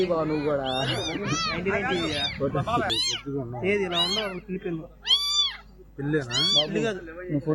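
Several high, wavering jungle cat kittens' meows overlap and repeat close by in a farm field, some drawn out and some short, with little pause between them.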